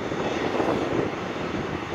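Loud, steady roar of jet airliner engines at an airport, a broad continuous rumble holding at even strength throughout with no voices.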